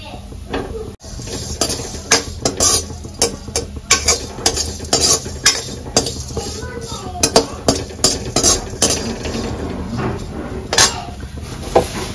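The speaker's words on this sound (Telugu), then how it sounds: "మెంతులు కొంచెం మెంతులు వేసి వేపుకుందాం కొద్దిసేపు" Fenugreek seeds fry and get stirred in a metal pan, with a steady soft sizzle under repeated loud scraping and clinking of a spoon against the pan, up close and without talk.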